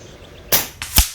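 Two sharp, loud cracks of an FX Avenger .25 air rifle firing 25.4 grain pellets during a 100-yard shooting session, each shot a crisp snap with a short thump behind it, about half a second apart, with no talk.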